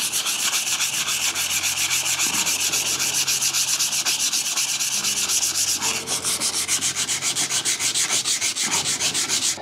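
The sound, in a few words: sanding rust off metal plane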